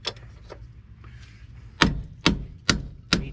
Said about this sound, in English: So now I'm going to get a hammer.